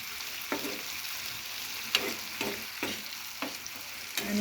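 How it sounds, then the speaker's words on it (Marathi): Onion and tomato frying in a pan, a constant soft sizzle broken by regular scraping strokes of a spatula every half second or so, close up with no voices. "तर त्या कांद्यामध्ये आपण 1 टमाटा ॲड करायचा आहे। तो टमाटा टाकला तरी असं छान असं भाजून घ्यायचं आहे।"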